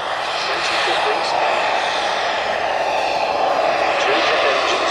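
Twin jet turbine engines on a radio-controlled scale model Avro Vulcan bomber give a steady, loud roaring whoosh that holds throughout, with someone talking over the noise.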